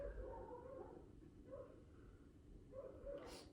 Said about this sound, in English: That's Barney and Ed barking in the backyard.